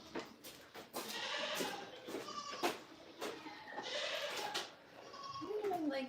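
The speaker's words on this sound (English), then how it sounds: "I didn't even realize there was goats in here overnight." Several goats bleat inside a barn at a goat farm, with repeated wavering calls rising and falling close by amid a person talking and moving around.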